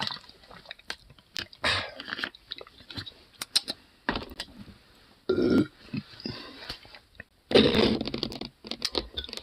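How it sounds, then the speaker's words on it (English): A couple of short, weak burps sound up close between scattered clicks and small mouth noises, each a brief throaty burst. "It's kind of a weak burp."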